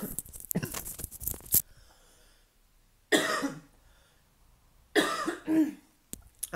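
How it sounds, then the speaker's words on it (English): A person coughs in several harsh, close bursts: a rapid cluster first, then two more separated by quiet gaps, and a final short cough at the end. "I apologise for my coughing."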